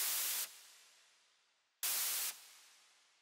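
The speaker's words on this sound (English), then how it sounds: "I have little bursts of white noise at each impact" Two bursts of synthesized white noise from a Synapse Audio Dune 2 synth, each a bright full-band hiss that holds for about half a second and then fades in a long, smooth decay tail, with a pause between the bursts.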